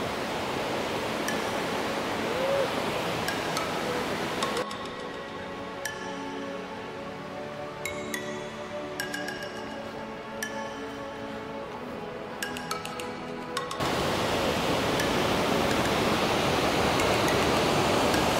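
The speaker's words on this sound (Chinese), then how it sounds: "在我身后的就是十分瀑布了，这个是台湾最大的恋慕式瀑布" Shifen Waterfall in Taiwan roars as a steady, broad rush of falling water, loud at the start and end and dimmer in the middle, with a few faint clinks.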